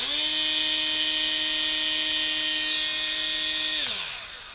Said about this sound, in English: I'll check the motor first. We're gonna do the throttle here.